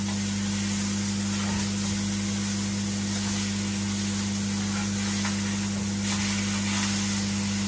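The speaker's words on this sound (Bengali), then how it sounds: "এই যে এখন মাছটা ভেজে নিতে আসছি, লাল করে ভেজে নিই মাছ।" Rohu fish frying in hot oil, a steady, loud, continuous sizzle and hiss that holds evenly throughout without pause, close to the pan.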